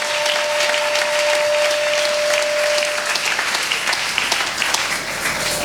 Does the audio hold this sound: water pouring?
no